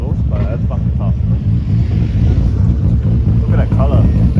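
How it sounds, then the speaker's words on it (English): A cammed Nissan R32 GTR idles at a car meet, its exhaust giving a loud, lumpy, uneven low rumble throughout, with wind buffeting the microphone and a voice faintly over it. "I don't know if you can hear the cam sounds from his exhaust"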